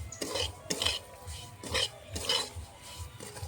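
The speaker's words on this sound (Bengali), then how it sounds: "কুড়ানো নারকেলটা দিয়ে কিছুক্ষণ ভেজে নেব" Grated coconut frying in a pan for gujiya filling, stirred with a utensil that scrapes and clinks against the metal in a steady rhythm of about four sweeps, close by with no talking.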